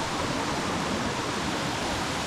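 A mountain creek in the Northern Cascades rushes steadily with dense, even white water noise, close and loud, with no voices over it.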